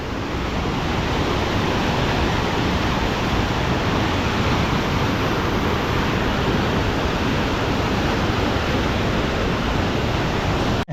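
Loud, steady roar of a waterfall with murky brown water in Lucbuban, Salcedo, Ilocos Sur, a dense unbroken rush filling the whole clip with no voices.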